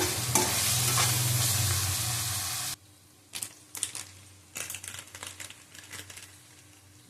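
Goat meat sautéing with turmeric in a pan, first a loud continuous sizzle, then after a sudden drop, quieter scraping stirs and bursts of frying crackle, close up with no talking.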